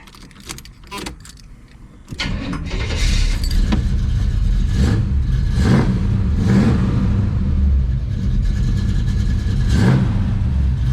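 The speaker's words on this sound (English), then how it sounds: "So when this car starts, it runs great." Keys jangle briefly, then a 1975 Chevrolet El Camino's engine turns over and settles into a loud, steady running idle up close.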